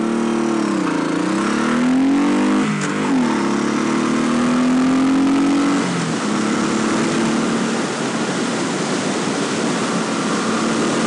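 A loud truck engine roars past nearby on a road, its pitch rising and falling as the vehicle accelerates by, then fading into steady road noise.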